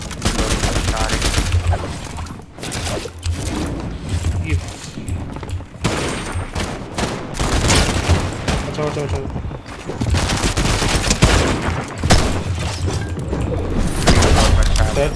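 Fortnite Chapter 5 gunfire: near-continuous rapid shooting and bursts with booming impacts, loud and dense throughout, mixed with game sounds and voices.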